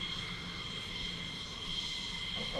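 An American airplane drones in a steady, even engine roar that stays level throughout, heard as playback from a video with no voices over it.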